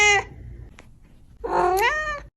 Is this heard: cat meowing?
yes